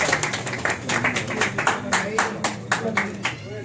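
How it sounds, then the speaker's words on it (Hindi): Clapping at a Pakistani apprenticeship ceremony as a student becomes his teacher's disciple: a few hands beating an uneven, close rhythm of distinct claps, with voices chattering underneath. "तालियां जी तालियां।"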